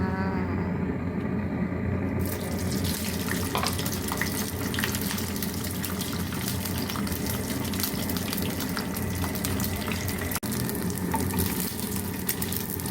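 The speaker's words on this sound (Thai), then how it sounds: "นี่ค่ะเราจะมาทอดหมูแดดเดียวกันค่ะ" Sun-dried pork sizzles and crackles steadily as it fries in hot oil in a pan over low heat, a dense continuous frying hiss close by with no talking.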